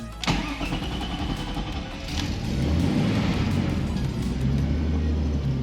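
A turbocharged BMW E46 328i cranks and starts after sitting a few days, a sharp crank burst giving way to a steady, close idle that swells slightly and holds loud throughout, with no talk over it.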